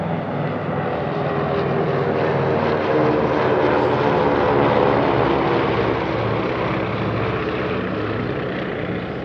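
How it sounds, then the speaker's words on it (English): A DC-3 and three Beech 18 vintage propeller aircraft fly a formation airshow display, giving a steady, loud droning roar that swells slightly mid-way and holds throughout. "The team flies a DC-3 and three Beech 18s"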